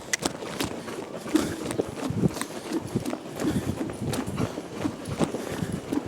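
Horse hooves clip-clopping on arena footing during riding training, an irregular run of soft thuds at moderate distance, with low background noise and no talk.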